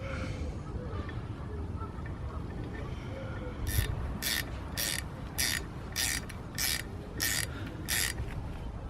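A new brake bleed nipple is ratcheted into a BMW E60 caliper, about eight evenly spaced, crisp metallic clicks following a rustle of handling, close and fairly loud in a quiet garage.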